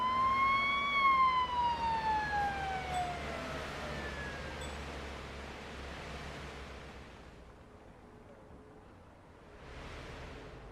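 A police car siren in the Highway Patrol expansion of a driving video game wails loudly at first, sweeping downward in pitch and then fading into a steady rushing road noise, with no talk over it.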